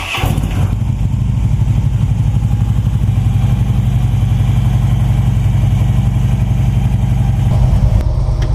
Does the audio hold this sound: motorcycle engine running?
yes